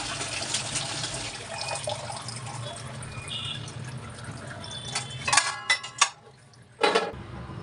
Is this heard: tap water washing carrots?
yes